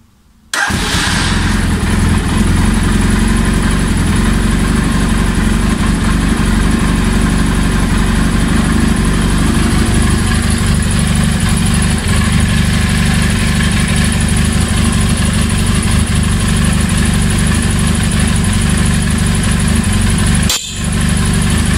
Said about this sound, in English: Just want to run the bike, not to lose voltage.